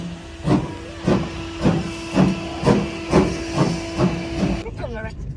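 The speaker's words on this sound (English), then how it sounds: "I can hear toots. So yeah, let's see what happens" Rhythmic bursts of steam hiss roughly every half second, like a locomotive chuffing, over a steady tonal hum, ending with a brief shift in sound.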